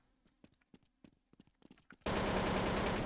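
Gunfire in the Counter-Strike video game, starting with several sharp, separate shots and scattered footstep-like taps, then breaking into a loud, continuous burst of sustained fire.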